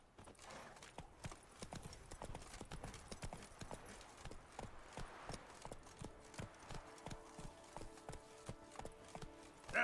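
Roach the horse's hooves clop steadily on the ground in The Witcher 3, a quiet, even rhythm of sharp hoof strikes continuing throughout with no talking.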